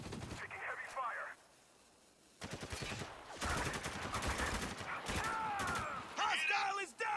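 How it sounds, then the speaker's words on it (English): Heavy gunfire in the shooter Spec Ops: The Line, dense rattling bursts of shots that break off briefly, then return loud and sustained, with voices and shouts mixed into the combat. "Taking heavy fire."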